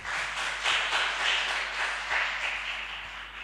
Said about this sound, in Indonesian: Tepuk tangan dong buat Kak Ibnu.